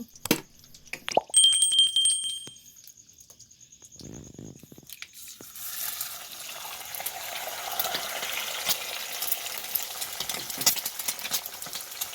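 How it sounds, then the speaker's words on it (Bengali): Eggs frying in a pan: a few wet plops and clinks as they go in, followed by a steady, moderate crackling hiss of oil that continues to the end. "এবার ডিমগুলো ভেজে নেব।"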